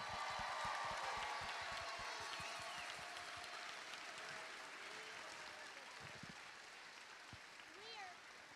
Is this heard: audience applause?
yes